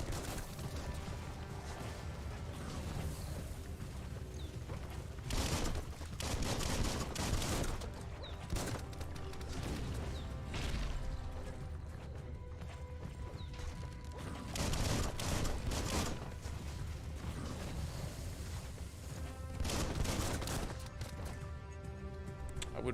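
Rapid bursts of gunfire in the Biomutant video game, a dense fusillade that swells and fades in several waves over a steady mechanical background, with no talking.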